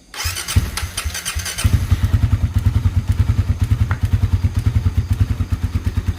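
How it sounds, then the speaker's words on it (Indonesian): Suzuki Satria FU fuel-injected motorcycle engine, freshly rebuilt and run before the oil has circulated, catches after a brief start and settles into a loud, steady, rapid idle with regular pulsing thumps and light mechanical clatter close by. "Setelah itu kita engine on. Nah seperti ini engine on."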